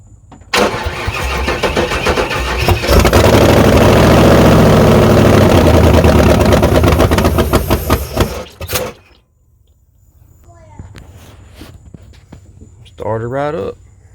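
A 1994 Chevy Z71 truck with aluminum heads cranks and starts loudly, then runs at a roaring high idle for several seconds before cutting off abruptly. Quiet noise follows, with a brief voice near the end.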